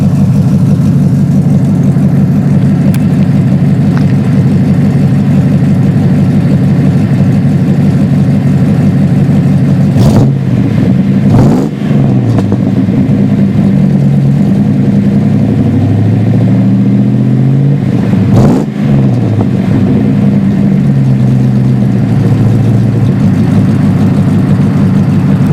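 A Jeep ZJ with a 5.2 V8, Hughes air gap intake, Big Gulp throttle body and Magnaflow dual exhaust idles loudly and steadily, broken by two short, sharp revs roughly midway and again near the end.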